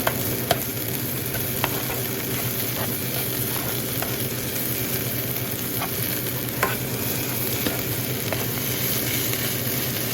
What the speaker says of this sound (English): So the onions are frying really well.